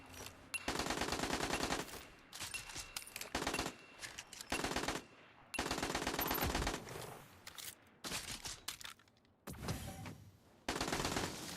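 Video game gunfire during a shooting challenge: rapid automatic bursts in repeated volleys separated by short pauses, loud and continuous, with no speech.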